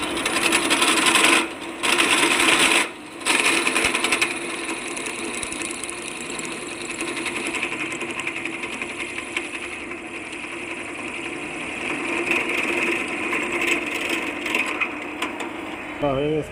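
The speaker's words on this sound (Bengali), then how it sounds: "এখানে এখন ফুটো কেটে সকেট মারা হবে।" A hole being cut into a wall for a plug socket, a steady grinding, rasping cutting noise that runs for over fifteen seconds with a couple of brief pauses early on, close and loud, with someone talking over it.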